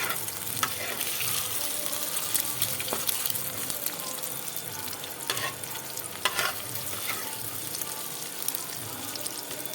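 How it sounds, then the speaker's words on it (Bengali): A pair of eggs fry in a pan, giving a steady close sizzle with scattered crackles and spatula scrapes against the pan. A faint watery hiss runs underneath, and no one speaks. "এবার ডিমটা আমি দুটো ডিম আমি ভেজে নিচ্ছি।"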